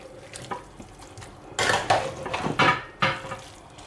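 A spoon stirs vegetable okra soup in a pot, a few soft scrapes followed by several louder, close clattering sweeps against the metal with short pauses between them.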